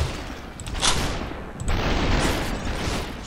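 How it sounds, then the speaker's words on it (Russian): Dense, continuous gunfire from the video game Superhot, with overlapping shots in rapid bursts and bullets whizzing close by, loud and steady for the whole stretch. "Буквально возле меня все эти пульки пролетали"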